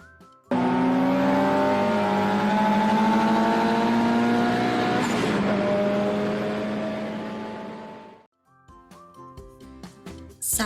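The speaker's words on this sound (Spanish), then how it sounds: "Es el carro." A car engine revs and holds a sustained, loud drone that slowly fades away, followed by a short burst of other traffic-like noises.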